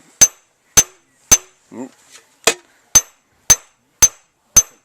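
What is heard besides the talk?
hammer peening metal, cold forging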